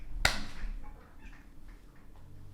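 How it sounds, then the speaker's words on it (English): Pet cats make a brief loud meow-like cry followed by fainter scattered yowls and scuffling as they run wild and attack window blinds, heard alone without talk. "my cats are going nuts."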